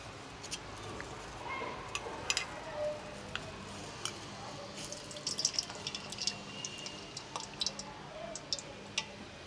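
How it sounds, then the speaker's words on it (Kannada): Peanut oil poured into a heating frying pan for moringa leaf bonda makes a quiet, soft trickle with faint ticking in a calm kitchen. "ಎಣ್ಣೆ ಹಾಕ್ಕೊಳ್ಳೋಣ."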